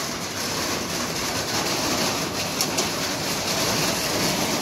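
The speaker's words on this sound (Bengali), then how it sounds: "জোরে জোরে জোরে বৃষ্টি চলে এসছে" Heavy rain pours down outside a home, a dense, continuous roaring wash of sound at steady loudness, with no talking.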